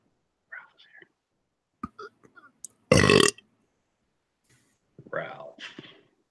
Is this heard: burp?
yes